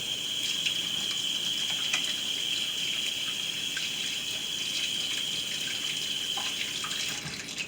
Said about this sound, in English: Gotta wash my hands real quick.